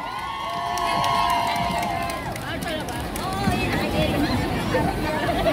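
A crowd cheers and shouts for the La Union Federation street dancers at a Filipino Christmas event in Hong Kong, a dense roar of voices and whoops rising and holding, with a voice speaking over the noise.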